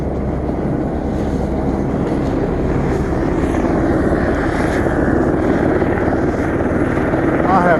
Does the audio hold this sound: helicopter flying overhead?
yes